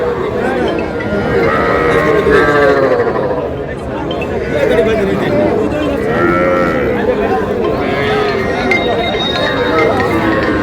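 Young bulls and heifers at a cattle market in Cumilla, Bangladesh, moo and low repeatedly, up close amid a steady hubbub of buyers and sellers talking.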